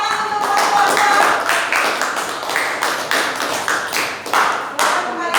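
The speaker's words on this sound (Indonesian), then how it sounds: "silakan tepuk tangan untuk kelompok 2" A classroom group claps in a dense burst of applause, irregular and lively, fading into scattered claps toward the end.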